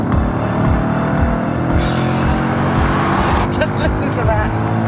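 Audi B7 RS4 with a 4.2-litre V8 revving toward its 8,500 rpm limit, a loud, steady engine drone that climbs and swells, heard close.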